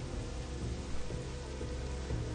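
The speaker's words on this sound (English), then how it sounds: "Dude, flying through the rain." Rain in the game WoW Classic, a soft, steady wash of rainfall with a low rumbling undertone that holds for a couple of seconds, no voices.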